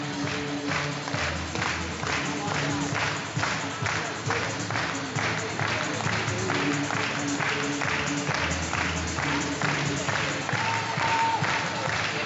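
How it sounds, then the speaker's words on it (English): Steady applause from an audience at a stallion parade, continuous clapping that holds at an even level throughout, with faint voices underneath. "And you can clap, please."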